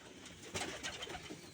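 Pigeons kept at home give a brief, faint coo, a couple of soft low pulses with no other sound over them.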